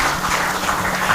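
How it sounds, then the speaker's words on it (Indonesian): Applause from the audience at an interfaith debate event, a short steady burst of clapping at moderate level with no voices over it. "Tepuk tangan ya."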